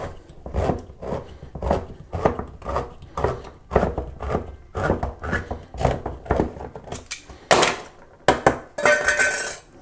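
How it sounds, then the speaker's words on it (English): Metallic clinks and scrapes ring out as a can of peaches is opened and the fruit spooned into a bowl, a steady series of sharp taps and knocks followed by brighter clattering bursts near the end. "Now I'm going to open these here peaches and transfer them into a bowl."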